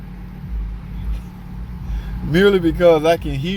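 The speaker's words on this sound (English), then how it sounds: "Now the car came in growling noise, grinding noise" A car's low growling, grinding drone at around 20 miles an hour runs steadily under the cabin hum during a test drive, joined near the end by a person talking over it.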